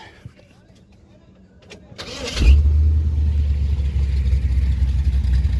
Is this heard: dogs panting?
no